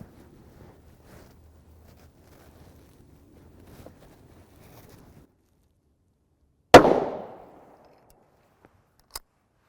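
A 9x19mm pistol fires one shot from a 4.5 inch barrel into a gel block outdoors, a single sharp crack with a short ringing decay, after quiet wind noise and before a faint later click.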